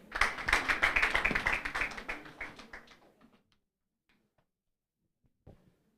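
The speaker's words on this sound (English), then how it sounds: "Let's clap for Nkumba." Applause at a university moot court competition for Nkumba University comes from a small group clapping in a quick, fairly even rhythm. It tapers off after about three seconds into near silence, broken by one soft knock near the end.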